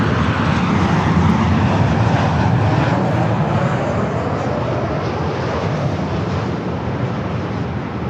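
Airliner bound for Tokyo Narita and Singapore rolling for takeoff on runway 4 left at LAX, a loud, steady broadband jet engine roar that stays constant throughout.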